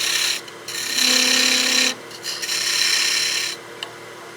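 Cutting a small chamfer on a wooden ornament spinning on a lathe, a close, bright scraping hiss in two main passes with short pauses between, alone without talk.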